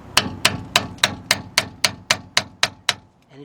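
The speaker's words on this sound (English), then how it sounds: "take your screwdriver, put it about right there, knock that one in" Eleven sharp metallic hammer blows strike a screwdriver driving out a Ford front brake caliper pin, evenly spaced in a steady rhythm, close and clear with no talk.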